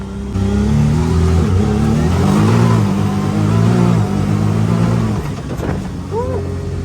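A Honda Pilot SUV hops over a driveway bump, its engine running loud and steady with a low mid-pitched drone throughout and a faint squeak near the end.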